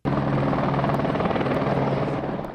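A police helicopter passes low overhead near an airport, its rotor making a loud, steady beating roar that holds for the whole stretch and eases off slightly at the end.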